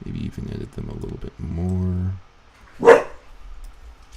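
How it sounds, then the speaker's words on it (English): A dog gives a single sharp bark near the end, following a person talking and a short sustained electronic tone. "And that's the dog."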